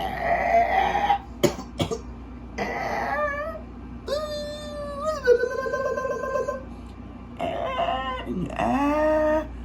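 Person vocally imitating eagle calls: a series of shrill, wavering screeching cries with rising and falling pitch, repeated several times with short gaps, loud and close against faint background noise.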